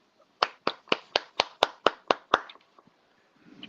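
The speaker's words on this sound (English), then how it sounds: "He already clapping." A person claps hands about nine times in a steady, quick rhythm, loud and close, then trails off into quiet room noise with faint talk starting at the end.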